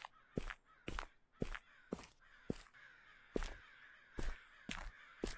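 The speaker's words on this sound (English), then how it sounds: "Are those crows? They might be. They sound like crows." Crows caw repeatedly in a video game, about ten harsh, evenly spaced calls in a loose rhythm, clear and fairly close with nothing else over them.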